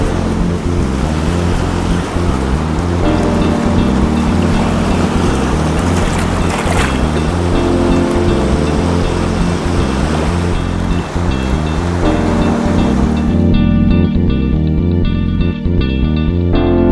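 Large sea waves surging and breaking between coastal rocks at a cloudy dawn, a loud, close, continuous roar of surf with rolling swells and some wind buffeting the microphone.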